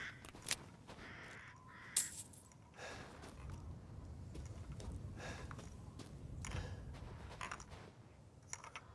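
Crows cawing in the dark, eerie village of the game Resident Evil Village, a few harsh calls rising over a low rumbling ambience with faint creaks and occasional footsteps.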